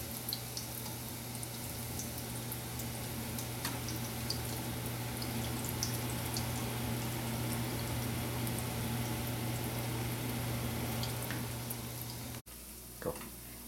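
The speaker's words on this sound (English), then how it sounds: "fry it on low to medium. And it will take a little bit of couple of minutes, and we'll finish frying all the pakoras" Pakora dumplings frying in oil on low to medium heat, a steady soft bubbling sizzle with faint crackles throughout, cut short by a brief clatter near the end, no talk.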